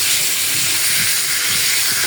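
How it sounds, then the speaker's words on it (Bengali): Pangas fish frying in a pan gives a steady, close hiss of sizzling oil that fills the whole stretch without a break, with no voices over it. "তার জন্য আমি পাঙ্গাস মাছ ভাজা বসায় দিলাম, তরকারিতে দিব।"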